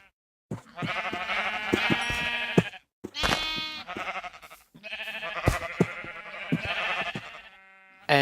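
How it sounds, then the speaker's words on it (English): Sheep in the video game Minecraft bleat loudly and close by in a run of repeated wavering calls separated by short pauses, with no talking over them. "so there's a third sheep in here now"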